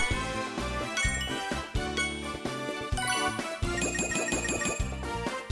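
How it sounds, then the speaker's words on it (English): A quick run of bright chimes and dings from Rhythm Paradise Megamix rings out with layered bell-like notes and jingles in a busy, rhythmic pattern, loud and without talk. "there's a few different chimes that you'll hear when you press A at this point"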